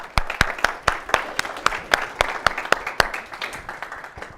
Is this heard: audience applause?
yes